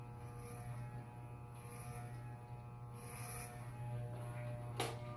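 Electric hair clippers run with a steady low buzz and hum while cutting a person's own hair, faint and close, with brief rustling bursts as the blades pass through.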